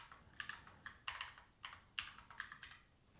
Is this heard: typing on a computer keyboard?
yes